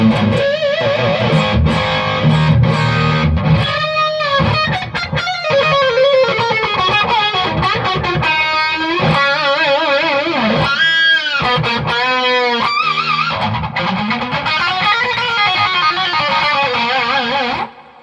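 An electric guitar played through an Egnater Tweaker 88 amp on a high-gain setting. The tone is loud, saturated and distorted, with sustained notes, bends and vibrato phrases that run continuously until an abrupt stop.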